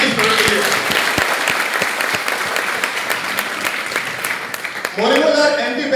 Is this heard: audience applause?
yes